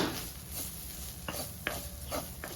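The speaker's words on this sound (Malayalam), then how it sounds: "ഒരു മീഡിയം സൈസ് പട്ട മതി അതുപോലെ തന്നെ മൂന്ന് ഏലക്ക മൂന്ന് ഗ്രാമ്പു ഇതും കൂടെ ചേർത്ത് നന്നായിട്ടൊന്ന് വറുത്തെടുക്കാം" Cinnamon stick, three cardamom pods and three cloves roasting in a pan, a faint sizzle with a handful of light scraping and tapping stirs spread across the moment.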